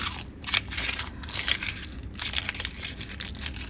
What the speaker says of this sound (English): and then I just crumpled it up. Just gonna crumple it up.